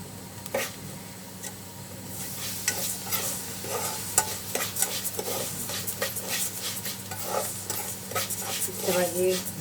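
Rice stirred and fried in a pan scrapes and rustles in repeated strokes over a low sizzle, with occasional clinks of a utensil against the pan; a faint voice murmurs near the end.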